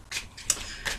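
Tarot cards being shuffled: three quick soft riffling bursts, close and fairly quiet, with no talking.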